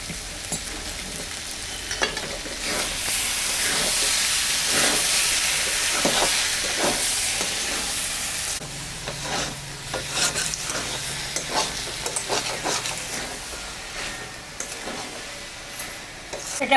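Banana flower and egg tarka being sautéed and stirred in a pan; continuous close sizzle and hiss with repeated spatula scrapes and clinks against the pan, no voices.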